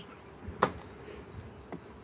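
Honeybees buzz faintly around an open hive during an inspection, a soft hum broken by a sharp click near the start and a lighter tap later.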